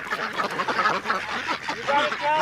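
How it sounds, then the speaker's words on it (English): Farm ducks quack repeatedly and continuously, close and fairly loud, with a person talking in among the calls. "Ducks are so happy."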